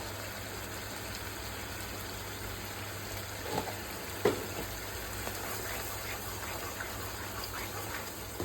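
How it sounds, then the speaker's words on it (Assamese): Oil bubbling in a pan while frying creamy chilli prawns, a steady hiss and gentle crackle with a few soft taps of utensils, close and quiet throughout. "এয়া চাওক তেলটো ফুটিছে।"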